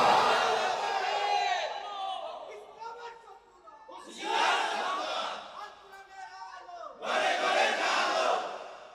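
A large crowd at an Islamic sermon gathering in Chattogram chants takbir in three loud, rising collective shouts, each swelling and fading with pauses between.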